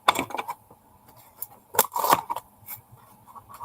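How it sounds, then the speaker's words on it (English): A few sharp snipping sounds from scissors cutting packaging close by, with some rustling and handling noises between the cuts. "Oh, here's a pair of scissors"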